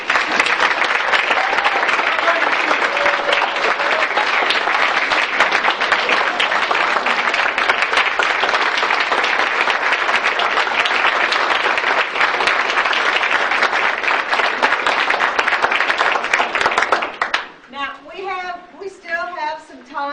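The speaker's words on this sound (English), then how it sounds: "I think we can all give a tremendous round of applause to Tony" A large audience gives Tony a long, steady round of applause, continuous dense clapping that cuts off abruptly near the end as a voice begins speaking.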